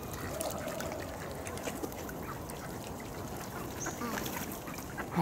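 Ducks quacking quietly while being fed, scattered calls over a soft background of trickling water and outdoor noise, with no clear talking.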